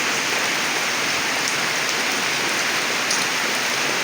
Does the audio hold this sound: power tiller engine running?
no